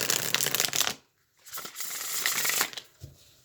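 Tarot cards are shuffled by hand in two bursts of dense, crisp riffling and flicking, loud and close, with a brief pause between them and a soft tap at the end.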